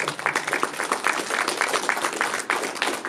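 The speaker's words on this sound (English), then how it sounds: "Give the man a round of applause, folks." A seminar audience at an AACA national convention, held on the club's new headquarters, breaks into sustained applause: many hands clapping densely and steadily, fairly close, with no clear talk over it.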